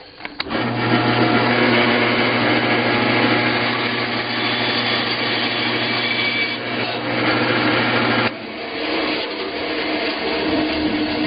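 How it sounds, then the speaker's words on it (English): A bandsaw cuts through a guitar-themed titanium spike fob blank on a sliding fence setup, a loud steady motor whine with a continuous cutting rasp that shifts in tone partway through, alone without talk. "Run it through the bandsaw"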